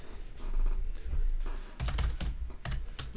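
Rapid clicking keystrokes on a computer keyboard come in uneven bursts, close and fairly quiet, with a brief flurry of faster taps near the end and no speech.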